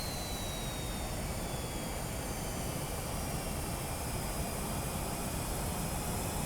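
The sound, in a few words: Tornado F3 jet engine spooling up, Prepar3D flight simulator game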